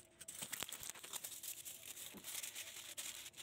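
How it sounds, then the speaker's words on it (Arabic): Crinkling aluminium foil, fresh sheets being wrapped onto a kitchen gas pipe, gives a close, continuous crackle and rustle with sharp taps, no voices. "ونحط الورق الفويل الجديد"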